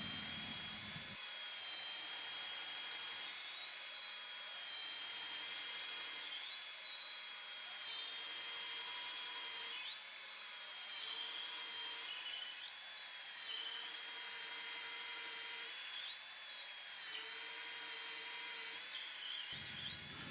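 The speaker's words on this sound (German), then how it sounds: "Ich benutze hier einen Schlangenbohrer." An auger bit drills deep into wood in a workshop, producing a sustained, steady high-pitched whine that runs for the full stretch with slight shifts in tone, then stops abruptly.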